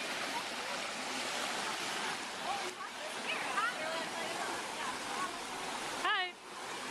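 A mountain river rushes with a steady broadband roar beside a hiking trail, loud and continuous, with faint chirps and brief voices near the end.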